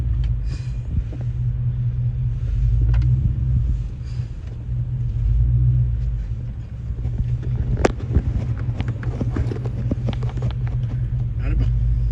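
A straight-piped Jeep idles with a steady deep low rumble throughout, mixed with wind buffeting and cabin noise, while people talk over it.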